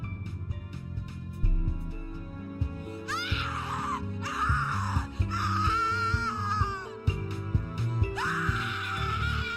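Vocal wails and screams from the horror game The Cat Lady rise and fall across several long cries, sounding over a layered musical score with steady low tones.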